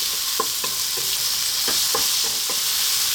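Onions and Kalamata olives with stones left in cook over fairly lively heat, giving a constant bright sizzle with regular soft knocks and scrapes of stirring, close and without talk.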